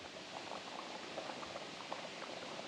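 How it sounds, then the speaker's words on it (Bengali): Meat boils in a pot as a steady, faint, dense bubbling hiss with small scattered pops throughout, continuous and unbroken, with no talking. "এরকম মাংস এখানে ফুটছে।"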